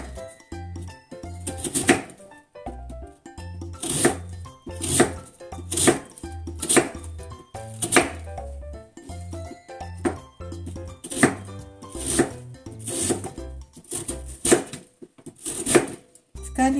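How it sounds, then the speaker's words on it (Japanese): A kitchen knife slices daikon radish into thin strips for yuzu pickles, landing as a steady run of crisp, close thuds on a cutting board, roughly one chop per second, with brief pauses between strokes. "切っていきます。"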